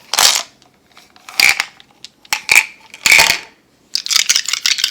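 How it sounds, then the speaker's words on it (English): Dice clatter and tumble on a hard surface during a tarot reading, several sharp rattling bursts with brief pauses between them, close and fairly loud. "Okay, the dice."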